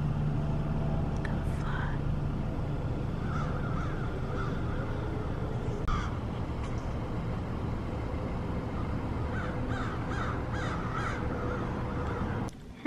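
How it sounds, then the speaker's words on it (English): Crows caw repeatedly in short harsh calls over a steady low outdoor hum, moderately near and fairly clear, with a few scattered calls through the stretch. "Listen to the crows."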